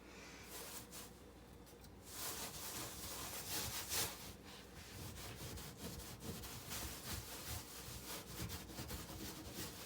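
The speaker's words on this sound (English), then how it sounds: "now we're going to give it a little scrub" Brushing and scrubbing inside an oven coated with homemade oven cleaner, a steady rough rasping that continues back and forth for several seconds, close but fairly faint, with no voices.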